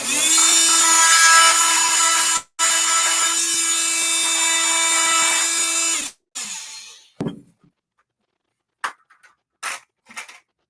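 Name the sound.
jigsaw cutting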